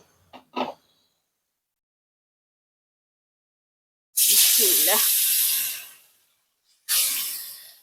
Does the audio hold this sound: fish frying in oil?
yes